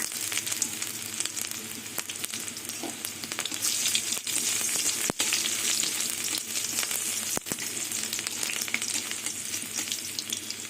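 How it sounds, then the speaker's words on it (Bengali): Chopped ginger fries in oil with a continuous, even sizzle and a couple of sharp clacks of a spoon against the pan, no talking. "কুচুনো আদাগুলো ভাজা হয়ে গেছে"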